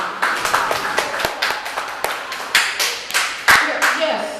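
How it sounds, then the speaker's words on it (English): A comedy-club audience claps in sparse, uneven bursts, with a few distinct sharp hand claps standing out over light chatter and laughter from the crowd. "If you could, yes, give a round of applause for my vagina. Clap for my vagina."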